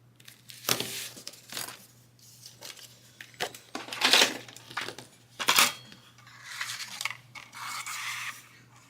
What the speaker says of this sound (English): And then I'm just going to cut to the inside of that.